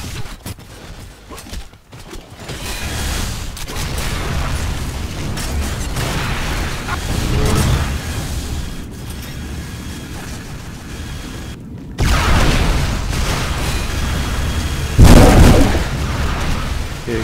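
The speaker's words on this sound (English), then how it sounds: "Can show you some new thing with the pulse rifle." Continuous rapid energy-weapon fire from a pulse rifle in Unreal Tournament 4, a dense buzzing stream with bursts and booming impacts, loud and close throughout with brief pauses near two and twelve seconds.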